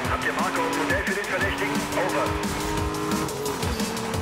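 An Aston Martin in the racing game Need for Speed: Most Wanted drives with a loud, continuous engine roar, shifting pitch and bursts of tire squeal, under game music and effects, with someone talking over it.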